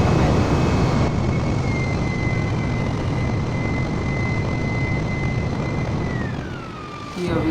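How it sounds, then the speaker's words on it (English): A propeller airliner's engine drones loudly and steadily in flight just after takeoff in a flight simulator game, a constant roar with a sustained tone that dips near the end, no voices. "So here goes takeoff, landing gear retracted, and let's switch on autopilot and head to our final destination"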